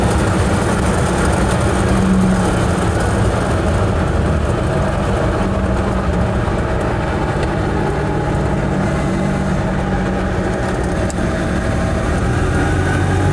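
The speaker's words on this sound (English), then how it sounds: "What a lovely engine this Starpouche engine is." An Invacar microcar's small engine running on the road during a rally trip, a steady, droning hum with rattling mechanical texture that stays constant and loud throughout.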